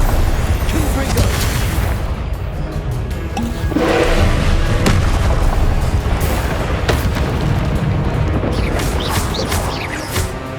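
Confringo blasting curse explosions in Hogwarts Legacy make a continuous loud roar of booming blasts and crashing rumble, with sharper bursts standing out, all dense and close with no pauses.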